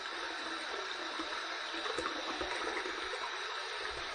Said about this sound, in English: let's go ahead and heat this up under some hot water